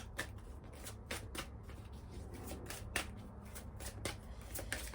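Archangel oracle cards being shuffled by hand, a steady run of quick, soft riffling flicks at close range over faint background hum, with no talking.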